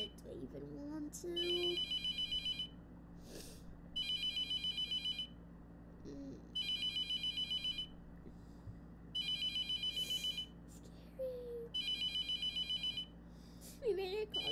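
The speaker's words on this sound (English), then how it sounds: "It doesn't stop ringing." An in-game telephone in The Mortuary Assistant rings in repeated electronic bursts at a steady rhythm, with quiet game ambience and occasional faint tones between rings.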